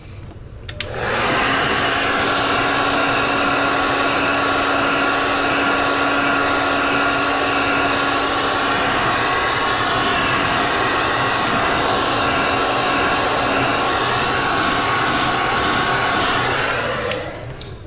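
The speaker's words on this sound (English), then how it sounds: "So let's heat set this quickly." A heat gun heat-setting the paint on a crankbait lure switches on and blows a loud, steady whooshing roar for about sixteen seconds before cutting off, with no talking.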